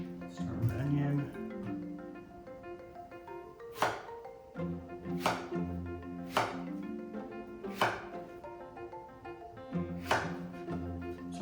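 A knife chops red onion on a cutting board for a couscous salad: six or so crisp, close thunks spaced a second or two apart over a steady background hum.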